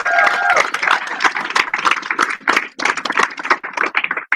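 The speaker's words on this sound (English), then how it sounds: "Give yourself a round of applause." An audience claps and cheers at a speech event, with a dense, lively burst of applause and crowd noise throughout.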